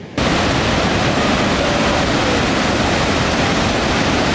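Iguazu Falls waterfall roars as a steady, dense wash of rushing water, loud and continuous throughout with no voices.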